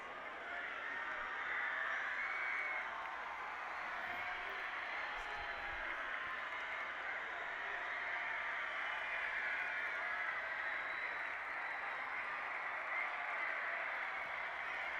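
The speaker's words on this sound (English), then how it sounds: "And a lot of crowd noise." Crowd noise at a college football game during a field goal attempt, a steady distant roar of many voices and cheering that holds evenly throughout, with some talk mixed in.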